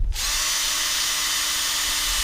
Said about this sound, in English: first thing I do is we'll drill a hole. I use a 7/16 bit for this one